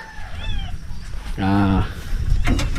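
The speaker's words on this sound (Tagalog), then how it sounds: "Uy, meron pang pusa dito ah." A cat meows a few times at a rural farm home, with a drawn-out harmonic meow in the middle and shorter cries before and after, heard against a low background rumble.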